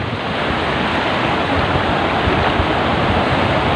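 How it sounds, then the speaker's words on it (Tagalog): Continuous roar of ocean surf breaking on the shore in strong northeast monsoon wind, loud and unbroken, with wind buffeting the microphone. "ang lalaki nung alon na umaampas sa akin"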